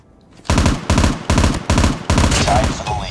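Bursts of automatic gunfire in a first-person shooter on the Highrise map, five loud, evenly spaced volleys of rapid shots in close succession, each sharply onset and ringing out briefly.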